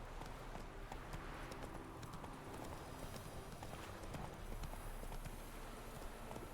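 Roach, a horse in a video game, gallops with a rapid, continuous run of hoofbeats. The clip-clop is fairly quiet and steady, with no talking over it.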